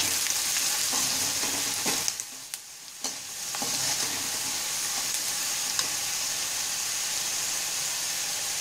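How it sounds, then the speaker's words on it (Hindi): Ground cumin and vegetable masala fry in oil in a pan, giving a steady, close sizzle for the whole stretch, with a few soft stirring scrapes and a brief dip in loudness partway through. "जीरा पाउडर, सब्जी मसाला, इनको अच्छे से भून लेंगे।"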